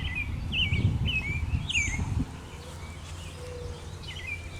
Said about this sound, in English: Don't you love those bird sounds?